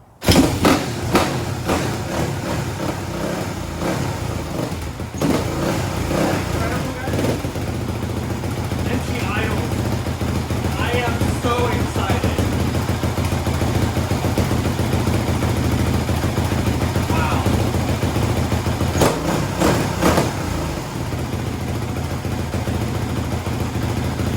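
A rebuilt Kawasaki KX450 dirt bike, still smoking, fires up and settles into a steady, rough running drone that carries on throughout, with people talking over it.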